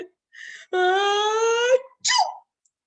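A drawn-out, tonal "aaah" breaks into a short, sharp "choo": one exaggerated, cartoon-like sneeze, close and fairly loud, with a brief sound before it.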